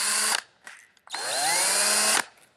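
A power drill fitted with a removal wheel strips old clear bra film from a car hood, whirring loudly in a short burst, pausing, then running in a longer sustained whine with a rising pitch.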